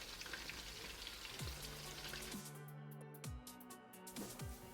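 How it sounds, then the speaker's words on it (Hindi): Chicken pakoras fry in hot oil over a medium flame, giving a steady dense sizzle and crackle with occasional louder pops and spatters throughout, close and without speech. "पकोड़ों को ज़्यादा हाई फ्लेम पर हमने इसको नहीं फ्राई करना, मीडियम फ्लेम पर करेंगे।"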